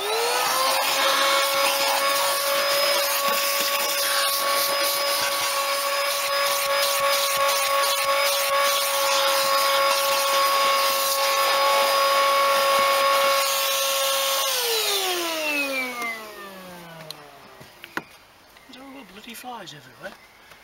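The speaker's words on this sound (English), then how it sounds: "So I'll grab the vac out now, we'll give it a good vac first" A vacuum cleaner whining steadily while cleaning the interior of a barn-find Toyota Carina E, loud and close, then spinning down with a falling pitch as it switches off, followed by a few knocks.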